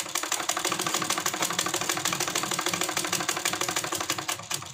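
Sewing machine stitching the folded hem of a kurti, a steady fast mechanical whirring with rapid regular needle clatter running continuously and close up, no talking.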